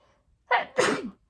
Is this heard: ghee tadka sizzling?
no